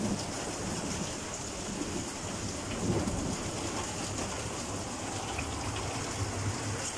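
Heavy rain pours steadily during a summer storm in Komsomolsk-on-Amur, with a low rumble of thunder rolling underneath, a constant dense wash of sound.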